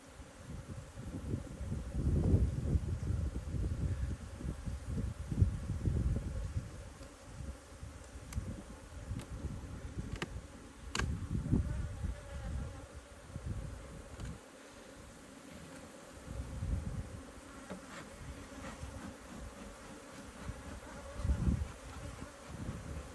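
Caucasian honey bees buzz around an open hive at midday, a steady close drone that swells and fades as individual bees pass near, with light wind underneath.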